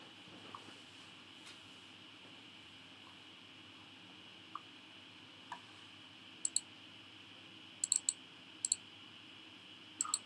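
A computer mouse clicks quietly over a steady background hum, with scattered single clicks at first and then quick double clicks in small clusters toward the end.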